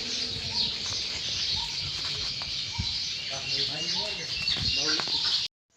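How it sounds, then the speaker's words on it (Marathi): Sparrows chirping outdoors, a dense continuous chatter of many birds close by, with a person speaking over it part of the time. "इतका काय चिमण्याचा भारी आवाज येतो"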